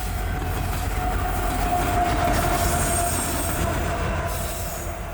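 Freight locomotives roll through a rail yard with a steady, loud rumble and a sustained wheel squeal rising above it, close by and without any talk.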